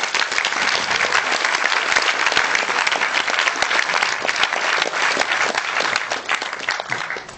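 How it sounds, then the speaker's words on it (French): A festival audience at a European fantasy film festival in Strasbourg applauds the volunteers, loud, dense clapping from a large crowd that carries on steadily and fades slightly at the end. "je crois qu'on peut les applaudir"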